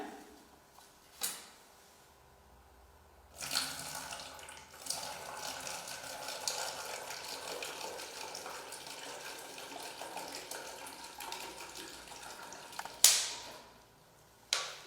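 After a clunk, vinegar pours steadily into a sink, splashing for about ten seconds before a sharp knock at the end.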